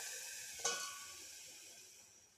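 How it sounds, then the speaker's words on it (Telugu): Jaggery syrup sizzling and hissing in a pan, a faint steady sizzle with a brief sharp spike near the start, then a slowly fading simmer. "ఇందులో బెల్లం పాకం పెట్టుకుందాం."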